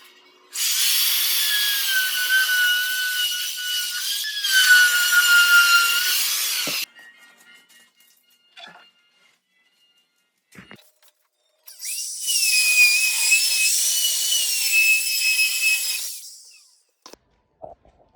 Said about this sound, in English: I'm going to use this, just a bottom bearing router.